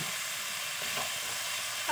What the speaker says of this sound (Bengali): পাচলিখিনি ইতিয়া মই গাপতে ভাজি লম